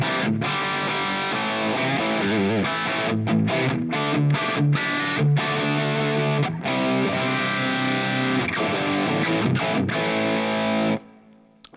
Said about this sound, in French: le son de base, celui que j'ai de base, c'est une espèce de crunch.